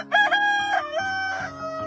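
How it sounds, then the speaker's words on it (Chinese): A rooster crows once near midday at a home, a loud, close cock-a-doodle-doo with rising and falling harmonic calls, standing alone without talk. "家里的鸡又开始胡乱的打鸣"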